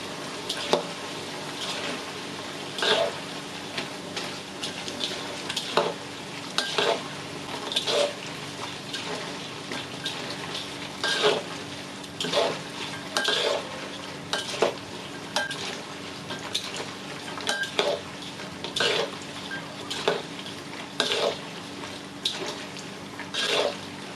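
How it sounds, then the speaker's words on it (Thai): Banana slices are tossed quickly in a pan of oil over medium heat while making sweet banana chips, a steady frying sizzle broken by regular scraping and clattering strokes of a utensil against the pan, close and without talking. "คลุกเข้าให้เข้ากัน ขั้นตอนนี้จะคลุกเร็วนะคะ ประมาณสักสองสามนาทีนะคะ ใช้ไฟปานกลาง"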